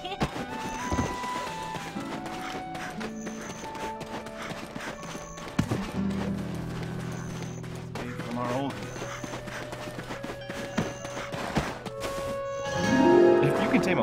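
Horse hooves clip-clop steadily in the video game Black Desert, a quick even trot heard close under game background sound, with a brief louder swell near the end.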